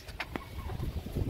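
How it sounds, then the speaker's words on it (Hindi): Pigeons of many breeds in a breeder's loft at feeding time give a short burst of low, soft cooing, close and steady, with faint rustling around them. "और तमाम नस्लों के कबूतर इसमें पड़े हुए हैं।"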